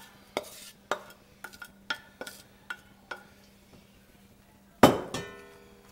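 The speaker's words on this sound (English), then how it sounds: "swirl them pecans around a little bit" A spoon stirring pecans into pecan pie filling: a series of sharp clinks and knocks against the dish at an uneven rhythm, close and fairly crisp, ending in a louder clattering scrape.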